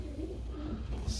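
Pigeons in a loft give soft, low cooing that rises and falls in a steady, murmuring rhythm, faint against a rumbling background.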